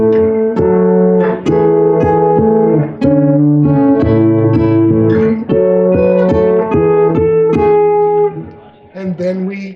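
Acoustic guitar playing a song's interlude, plucked picking followed by ringing single notes in a steady rhythm, loud and close, fading near the end.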